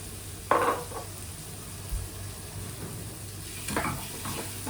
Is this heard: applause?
no